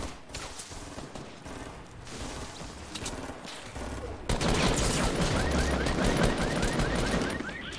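Gunfire in a Fortnite solos match, with sniper fire and nearby fighting: steady shots and dense bursts throughout, growing louder and heavier midway, with a voice talking over part of it.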